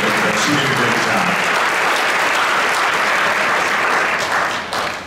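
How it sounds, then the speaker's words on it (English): Loud, dense audience applause at a school Christmas musical, a sustained wash of clapping from a large crowd that tapers slightly at the end. "can we start by applauding Mrs. Hawthorn for all that effort?"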